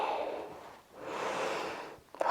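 Slow, deep breathing during a yoga pigeon pose: a long loud inhale, a brief pause, then a long audible exhale, close to the mic with no talking.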